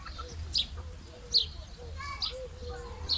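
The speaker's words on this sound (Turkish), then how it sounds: "Bak burada tavuklarla beraber horozlarla." Short bird calls and chirps from chickens and roosters at a zoo in Bursa ring out at intervals against a low, steady background rumble, with a few higher tweets scattered between them.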